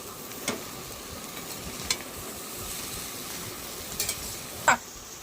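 Mixed vegetables frying together in a pan with very little oil, a steady close sizzle with a few sharp spatula scrapes and clinks from stirring.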